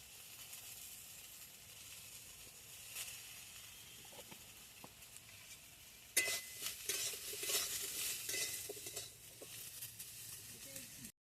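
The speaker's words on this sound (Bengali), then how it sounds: "ফুলকপি একটু ভাজা হয়ে গেছে" Salted cauliflower fries in a pan in a village kitchen, a quiet sizzle at first, then louder hissing and scraping as it is stirred from about six seconds on.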